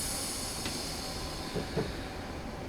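A Class 319 electric multiple unit braking in Train Simulator 2015 on the Midland Main Line from Bedford to St Pancras: a steady rumbling running noise with a high hiss and a few brief clicks and thuds, no talk.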